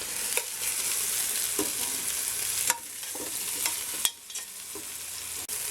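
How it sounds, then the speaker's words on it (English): Beef pieces browning in a stew pot while being stirred: a steady close sizzle with scraping spoon strokes and a few sharp knocks against the pot, no voices. "So you got to let it sit long enough to let the brown cook and develop. Okay, so stir it and then don't touch it."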